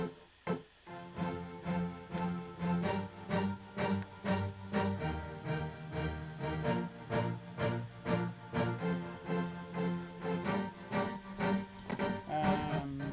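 Dramatic Nexus string patches layered with keys in a dance track, playing a loud, rhythmic pulsing chord pattern with steady repeated stabs throughout, no voices.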